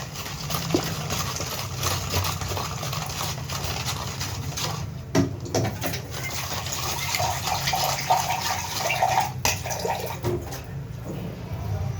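Water being poured into a dish while making fruit salad with apple pieces, a gushing, splashing flow with a few short bursts, fairly close, with no talking over it.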